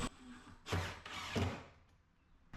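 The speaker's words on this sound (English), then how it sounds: "Drive the screw in." A power drill drives a screw in two short whirring bursts, each a second or so, with a faint mechanical hum between them, during a shop cabinet build.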